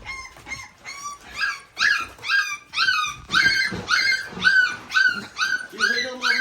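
Three-week-old Bully puppies cry in a steady string of high, whining yelps, one after another with barely a pause, close up and fairly loud.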